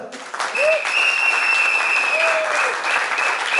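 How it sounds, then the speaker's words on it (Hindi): Loud applause from a large group at a residential training session, dense sustained clapping throughout, with a voice briefly audible over it. "तालियां एक बार जोरदार"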